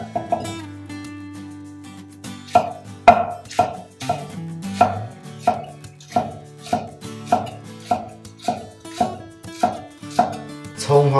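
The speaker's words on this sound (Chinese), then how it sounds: "葱绿切花" A knife chops green onion tops on a cutting board in a steady, even rhythm of about a dozen crisp, close strikes, with no talking.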